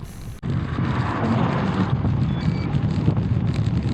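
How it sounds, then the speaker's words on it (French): Strong wind roars and buffets the microphone continuously, a loud, steady rush with gusty swells and no voices. "le vent commence à s'intensifier et on a même un peu de pluie"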